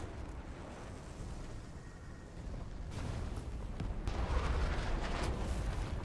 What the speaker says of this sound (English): That's a big ass fucking mortar.